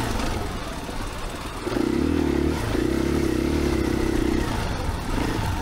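A 2021 KTM 500 EXC-F dirt bike rides a trail at Johns Peak OHV. Its engine drones steadily, then revs up harder at about two seconds and holds a loud, sustained note with some clatter over rough ground.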